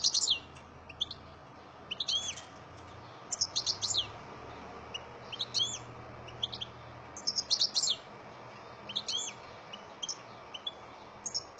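A Gloster canary sings in short, bright bursts of chirps and trills at steady intervals, fairly close over a low background hum, with no voices.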